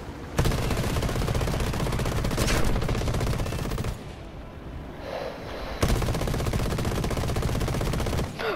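Aircraft cannons and machine guns in War Thunder fire in long, loud, rapid streams, steady for several seconds, break briefly and then start again, all over a droning engine background.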